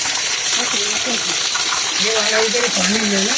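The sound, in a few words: water flowing continuously at the Nandi shrine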